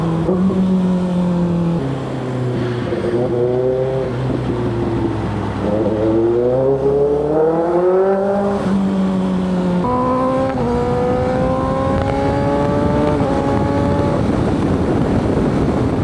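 A big-bike motorcycle crawls through heavy traffic in second gear, its engine droning steadily close by with gentle rises and dips in pitch as the throttle opens and eases, with no pause.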